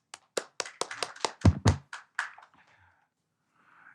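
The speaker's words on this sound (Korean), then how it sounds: "큰 박수로 환영해 주시기 바랍니다." A brief burst of scattered hand claps welcoming a speaker at an education policy forum, about a dozen distinct claps that quickly taper off into near silence.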